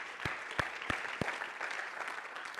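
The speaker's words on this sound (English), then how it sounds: "Let's give the Lord a big hand clap of praise." A church congregation claps in praise during a service, a brisk round of hand clapping that starts with a few sharp, distinct claps and settles into a softer, fairly distant patter.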